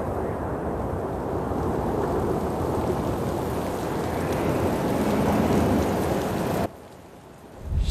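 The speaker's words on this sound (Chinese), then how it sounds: "风好大呀！ 要下大雨啦，快进山洞躲一躲。" Heavy cartoon-style rain with thunder, a dense, steady roar of downpour filling the scene, cutting down sharply near the end before surging back up; no voices.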